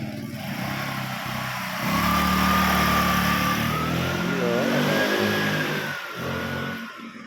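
A recently repaired motorcycle engine runs nearby, its pitch rising and falling as it is revved over a steady mechanical hum.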